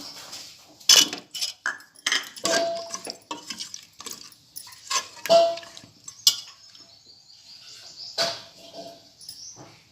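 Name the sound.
adding potatoes to a pot of cooked mutton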